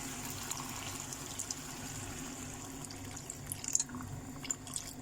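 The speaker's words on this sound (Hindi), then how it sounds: "1 कप हम पानी ऐड कर रहे हैं इसमें" Water being poured from a cup into a pot of ridge gourd and moong dal, a soft steady trickle and splash heard fairly close with a low background hum, no talking.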